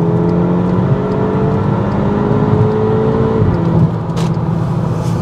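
A loud, deep Mk5 Golf GTI engine with a new exhaust drones steadily with a rising tone on a motorway, then the pitch drops as it shifts, under constant road noise.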